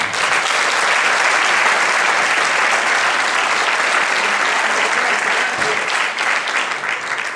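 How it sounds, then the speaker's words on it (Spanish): An audience claps together for a Latin music duo's absent companion, sustained loud applause from many hands that runs unbroken and even, tapering only slightly near the end. "vamos a mandar un aplauso, que non se diga"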